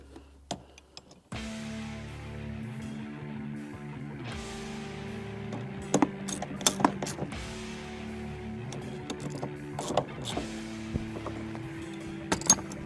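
A T45 seat belt bolt is driven back in on a 2019-2024 Dodge Ram 2500 cab with a power tool, a steady droning whir running for most of the clip with sharp clicks and clanks over it, close by, no speech.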